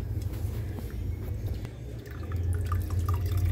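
Seasoning broth dripping and trickling from a lifted cooked Chinese-style chicken, soft wet drips and splashes scattered over a low background hum, with no talking.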